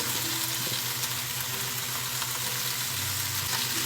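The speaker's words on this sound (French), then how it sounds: "Les bok choy sont en train de virer sur le feu" Bok choy stir-fries in a pan with sesame oil and soy sauce, making a steady, busy sizzle with close, continuous crackle and light clatter from stirring, and no talking over it.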